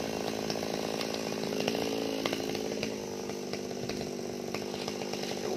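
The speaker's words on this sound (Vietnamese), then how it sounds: "Cưa mấy nhánh bên đây nè các bạn." A chainsaw saws through mango tree branches, running in a steady, buzzing drone with small bumps in pace, moderately loud and uninterrupted by speech.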